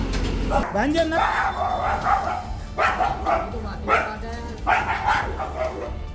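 A stray street dog, caught by municipal workers with a noose around its neck, barks and yelps in repeated sharp bursts close by, while voices talk in the background.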